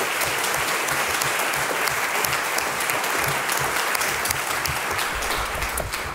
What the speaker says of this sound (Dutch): En ook graag een warm applaus voor Alina Schak